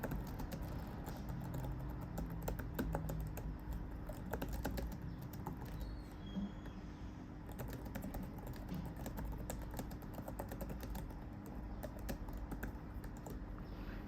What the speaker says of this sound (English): Let's hear the sound of the keyboard.